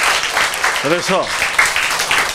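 An audience at a lecture applauds, dense continuous clapping throughout, with someone briefly speaking over it.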